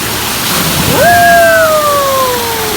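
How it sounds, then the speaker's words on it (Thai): Steady rushing water from a waterfall roars in a broad wash, with a voice rising in a long falling cry over it partway through. "น้ำตก"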